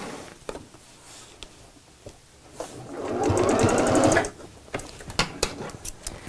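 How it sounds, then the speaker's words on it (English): A sewing machine runs a short holding stitch close to the edge over elastic, a brief whirring burst of about a second between scattered handling clicks and taps of fabric. "it's just a holding stitch, so sew quite close to the edge"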